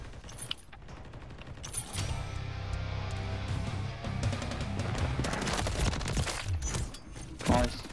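Rapid video-game gunfire rattles in a scrapyard map, volleys of shots and bursts crackling over a steady rumble, with a player's voice heard among them.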